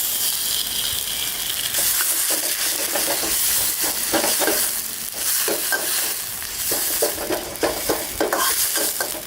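Garlic and namprik chili paste are stir-fried in a pan for a Northern Thai pork and tomato relish, a loud continuous sizzle broken by repeated scraping stirs of a utensil against the pan, with no voices.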